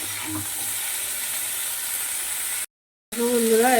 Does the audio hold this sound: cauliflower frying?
yes